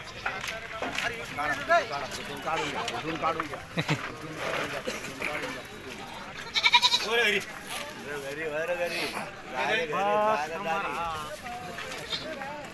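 Goats bleating repeatedly at a livestock market in Bharadi, Sillod taluka, Maharashtra, amid a noisy crowd of animals and people, with wavering calls overlapping each other and voices talking throughout.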